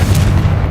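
A Confringo fire spell blasts in the video game Hogwarts Legacy as one loud, deep, booming burst that rumbles through the whole moment, with no talking.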